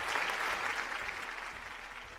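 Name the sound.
studio audience applause on TV game show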